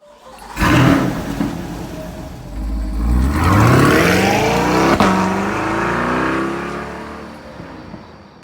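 A 2023 C8 Corvette engine starts and revs, then the deep engine rises in pitch as the car accelerates through the gears, loud and close from inside.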